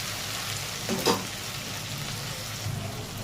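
Garlic frying in hot oil with turmeric or Kashmiri chili powder for a potol and prawn curry gives a steady, close hiss, with a brief stirring scrape about a second in.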